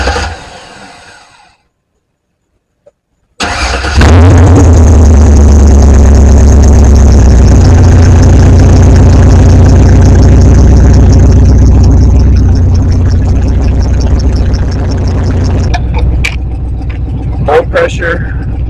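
A Pontiac Firebird engine cranks and catches after a brief silence, then settles into a loud, steady idle that runs on for many seconds, with faint clicks near the end.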